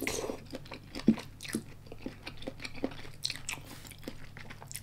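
Crunchy, spicy Thai salad with crisp green snake and Argentine red shrimp, bitten and chewed up close in a string of irregular crisp crunches with quiet pauses between them.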